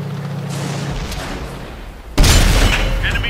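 Tank cannon firing in a video game, a single heavy boom with a broad rumbling blast partway through, over continuous engine and battle noise.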